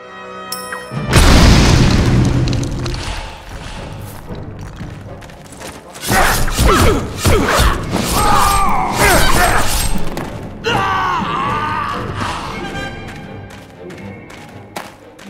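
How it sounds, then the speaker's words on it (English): Barrels blow apart in the action RPG Untold Legends: Dark Kingdom, a heavy booming blast with shattering debris, followed by further thuds and crashes amid combat effects, loud and up front. "Those barrels explode."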